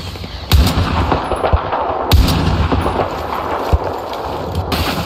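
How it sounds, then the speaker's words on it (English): Battlefield 4 gunfire on the Baku map, heavy booming shots and explosions with rattling bursts over a dense battle din, several loud close impacts spread across the clip. "Quick shooting, Wrecker."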